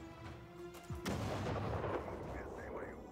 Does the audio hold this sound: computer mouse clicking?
no